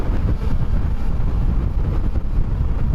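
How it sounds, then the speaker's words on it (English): Wind blows steadily on a breezy, sunny day outdoors on a countryside walk between Tideswell and Edale, a continuous low rumbling buffet close to the microphone with no one speaking. "it's a little breezy"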